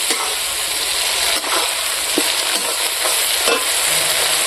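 Ground ginger-garlic, dried chilli and cumin paste hits fried onions in a village-style pangas fish curry base, giving a loud continuous sizzle broken by scraping stirs and spoon knocks, with no talk.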